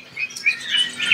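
White starling (jalak putih) chick chirping in short, bright, repeated calls at close range, growing busier and louder toward the end, with no talking.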